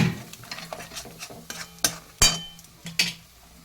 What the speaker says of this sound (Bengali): টমেটো দিয়ে দিচ্ছি দিয়ে কিন্তু একভাবে সমানে মশলাটাকে কষিয়ে নিতে হবে